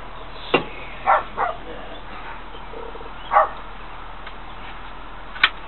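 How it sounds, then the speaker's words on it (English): A dog barks outside, a handful of sharp, scattered barks at moderate distance, separated by quiet pauses. "That ain't my dog out there."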